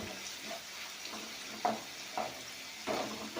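Tomato curry ingredients fry in a pan with a steady low sizzle, broken by several short scraping stirs from a spoon at close range; no voices.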